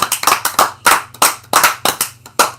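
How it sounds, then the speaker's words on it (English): Handful of people clapping close by during a casual RC hobby talk show, roughly a dozen distinct, loud claps in an uneven rhythm, each sharp and separate, with no voices over them. "So I think she gets a clap."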